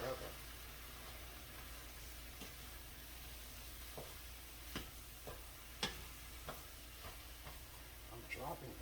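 Keto shrimp fried rice made with cauliflower rice and soy sauce sizzles softly in a pan while a utensil stirs it, with scattered scrapes and taps over a steady quiet hiss.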